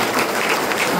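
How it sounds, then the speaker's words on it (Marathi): A church congregation claps in praise, a brief burst of dense, steady applause lasting about a second, close and fairly loud. "या दानासाठी आपण टाळ्या वाजवत देवाचा गौरव करूया"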